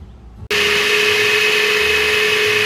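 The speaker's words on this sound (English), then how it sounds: "right now I'm going to run a smoothie off of my Jackery" A full-size countertop blender making a smoothie, drawing about 330 watts from a Jackery portable power station at a teardrop trailer campsite, starts abruptly and whirs loudly and steadily, close up with no talk.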